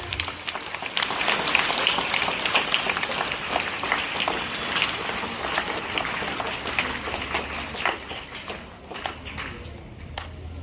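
Audience at a school investiture ceremony applauds the house captains: a dense, steady wash of many hands clapping for the full stretch, easing slightly toward the end, with a few louder individual claps poking through.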